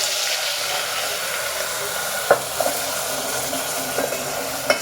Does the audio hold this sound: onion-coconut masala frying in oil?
yes